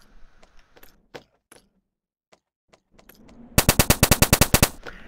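An automatic gun in the video game Strobe fires a rapid, evenly spaced burst of loud sharp shots after scattered quieter clicks and small in-game effects.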